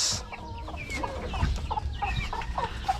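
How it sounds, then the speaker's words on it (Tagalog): Several chickens, about three months old, cluck and murmur close by, short rising calls overlapping one another against a low rustling farmyard background. "itong mga manok na yan"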